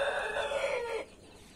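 A naked-neck chicken gives a single loud, close crow lasting about a second, cutting off into quiet farmyard background.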